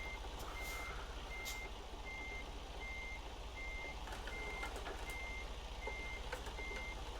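Truck reversing alarm in American Truck Simulator, a steady series of evenly spaced electronic beeps at moderate distance, repeating throughout over a constant low diesel engine rumble and background noise.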